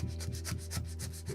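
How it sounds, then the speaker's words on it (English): Blade laid flat drawing back and forth across a motor mount plate, a steady rhythmic rasping scrape repeating about every quarter second, close and even. "I'm going to lay that blade flat on the top and just cut across."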